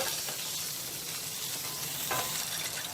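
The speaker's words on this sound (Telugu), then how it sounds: "ఇప్పుడు ఈ ఎగ్స్ని వేసేద్దాము ఈ ఎగ్స్ని కొద్దిసేపు ఫ్రై చేసుకోవాలి" Eggs frying in oil in a pan for spicy egg biryani give a steady, close hiss and crackle that holds throughout, with no talking.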